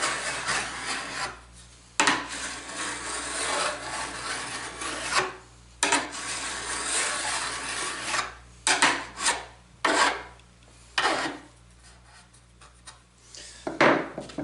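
Sanding with 80 grit abrasive at a sharpening station, a close raspy rubbing in repeated strokes broken by short pauses.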